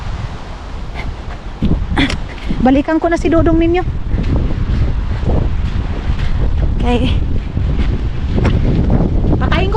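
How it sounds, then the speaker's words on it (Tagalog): Strong mountain wind buffets the microphone in a constant low roar throughout, while someone talks over it near the top of a mountain. "mahangin itong ating video ngayon kasi mayroon talagang hangin day"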